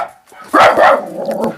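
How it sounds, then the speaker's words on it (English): A dog barks a few times nearby, sharp loud yips following a quieter lead-in, with no talking. "Sorry for the dog."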